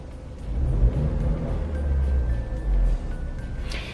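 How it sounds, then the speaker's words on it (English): A 2021 Ford Explorer engine revs up in a steady, loud rumble, with a faint whine creeping in near the end. "now I rev up the engine."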